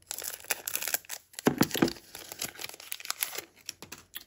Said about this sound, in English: We're going to use scissors.